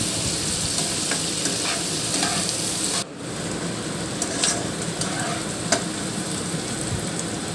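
Onions browning in a pan for mutton curry, a loud, continuous close sizzle with a brief dip midway and occasional stirring scrapes and clinks.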